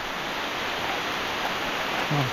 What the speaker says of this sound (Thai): ดูความหนักของฝน